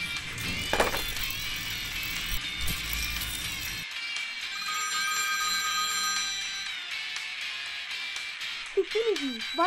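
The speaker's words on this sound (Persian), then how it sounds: "وایسا آرتا، تلفن رو بردار" A telephone rings with a steady electronic trill, loud and continuous, while a voice speaks briefly near the end.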